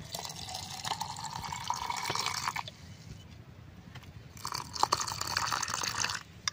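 Filtered water being poured into a glass container, a close, bright splashing stream that runs for a few seconds, pauses briefly, then resumes with a few drips.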